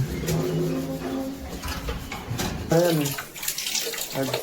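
Water runs steadily from a tap with a broad splashing hiss, while voices talk over it for most of the clip.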